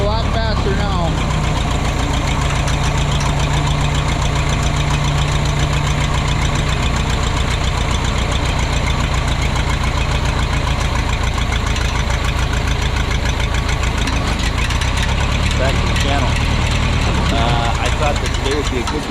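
A loud, steady tractor engine idles with a low rumbling drone and a faint knocking pulse, running continuously from start to finish.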